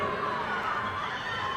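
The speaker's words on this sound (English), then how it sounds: "Good lot of crowd support here for the local Emma Godwin" Spectators cheer and call out at the 2024 New Zealand Swimming Championships heats, a steady crowd roar backing a local swimmer in the pool, continuous and moderately loud without a clear break.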